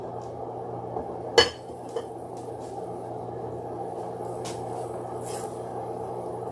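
A metal spoon strikes a pot of gravy on a stovetop: one sharp, ringing clink, then a fainter tap a moment later, over a low, steady kitchen background hum.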